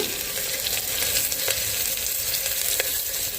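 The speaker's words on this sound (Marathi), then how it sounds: "कुकरमध्ये तेल, थोडे खडे मसाले, मिरची, बारीक चिरलेला कांदा घालून घेऊया." Finely chopped onions, whole spices and chillies sizzle steadily in hot oil in a pressure cooker, a constant close frying hiss with a couple of soft stirring scrapes.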